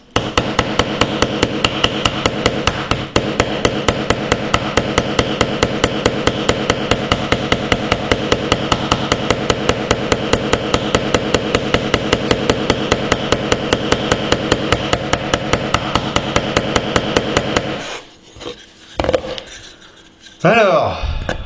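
A nail is hammered into an Oukitel K4000 smartphone, with rapid, loud, evenly spaced metallic blows continuing without pause, then breaking into irregular knocks near the end.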